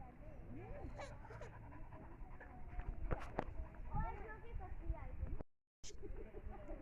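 A dog pants quickly and whimpers nearby during a fight with a cat, while people talk and call out over it, with scuffling movement and a brief gap.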